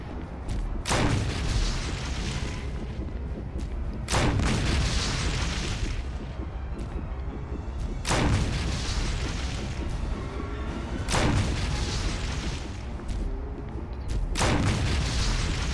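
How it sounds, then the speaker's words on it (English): A grenade launcher in the video game Resident Evil fires repeatedly, five heavy booming blasts at roughly three-second intervals, each followed by a rumbling decay over a constant background. "let's pull out the grenade launcher"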